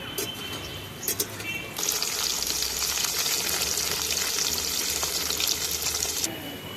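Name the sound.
potatoes frying in hot oil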